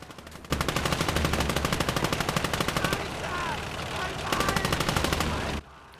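Sustained machine gun bursts from the WWII game Call to Arms: Gates of Hell, a rapid, loud rattle of evenly spaced shots lasting about five seconds, with a brief lull midway before firing resumes and cuts off abruptly.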